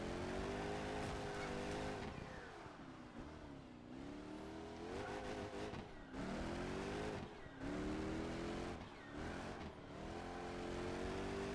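A race car engine in Project Gotham Racing 4 screams through repeated revving climbs and gear shifts, with brief drops between pulls and hints of tire squeal, loud and continuous without voices.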